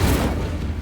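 Incendio fire spell blast in the Hogwarts Legacy video game, a loud low booming burst that rumbles steadily through the whole short moment with no voice over it.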